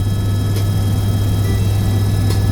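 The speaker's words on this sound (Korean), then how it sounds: "해마다 약 10만 명이 이 헬기를 타는데 리처드 브란슨 겸 가수 엘튼 존, 배우 러셀 크로, 골프의 신화 그렉 노먼 같은" Sightseeing tour helicopter flying over Niagara Falls, a steady loud low rotor and engine drone with a strong constant hum, continuous throughout with no talk.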